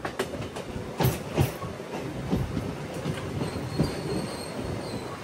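A MEMU passenger train on the Rajahmundry to Bhimavaram line rolls along the rails with a steady rumble and sharp, irregular wheel clacks over joints, heard from inside with no voices.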